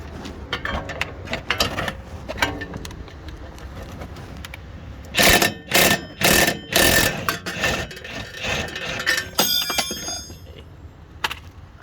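A wrench and socket loosening a 14 mm shock bolt on an Infiniti G37-type car during front driver axle work: scattered metallic clicks, then a run of loud rapid ratcheting bursts, close by.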